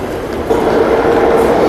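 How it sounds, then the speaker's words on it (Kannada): A metro train pulls into a station with a loud, steady rumble of wheels and carriages. The rushing noise swells slightly as it approaches, and no voices are heard over it. "ಇನ್ನು 1 ನಿಮಿಷಕ್ಕೆ ಮೆಟ್ರೋ ಅಂದರೆ ಟ್ರೈನೋ ಏನೋ ಅಂತ ಅಂದ್ಕೊಳ್ಳಿ, ಅದಿದೆ"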